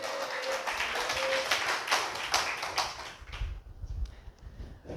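A church congregation claps together in a dense, fairly close burst of applause that fades after about three seconds into quieter shuffling and room noise.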